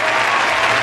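A short burst of canned applause triggered from a sound button, dense and loud clapping throughout with no break.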